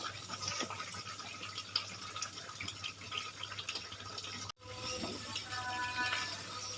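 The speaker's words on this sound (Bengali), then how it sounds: "এবার এই চিকেনের মধ্যে আমি দিয়ে দেবো অল্প পরিমাণে জল" Water pours into chicken cooking in a pan for a Kashmiri chicken kanti recipe, a soft steady splashing with a brief break partway through, quiet and close.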